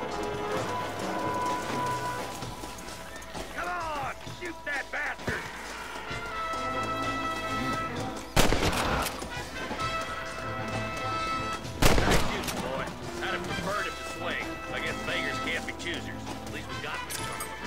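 Gunshots ring out in the Red Dead Redemption video game, two loud sharp cracks standing out over a busy mix of game music, hoofbeats and voices talking throughout.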